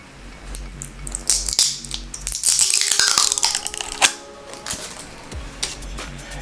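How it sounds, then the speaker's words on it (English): Plastic protective coating being peeled off a Tesla wheel cover emblem for a Model 3, heard as close crinkling, crackling and a drawn-out tearing rasp, with sharp taps and clicks around it. "I'll first remove the plastic protective coating."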